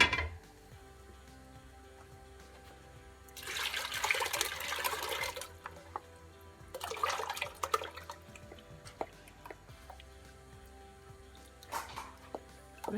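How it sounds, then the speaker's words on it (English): Soup mix pours into a pot for bitter-leaf soup in two rushing bursts, with quieter clinks and small handling noises between them, close up. "So I'll be pouring the mix right now."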